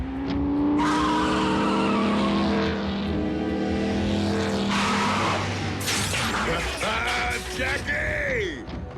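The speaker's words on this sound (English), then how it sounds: "I'd know the hum of that engine anywhere." A cartoon car engine in a Transformers animated series revs and roars up close, then tires squeal and skid sharply near the end, with the engine pitch rising and falling throughout.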